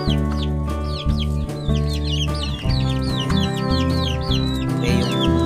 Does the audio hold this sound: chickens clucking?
yes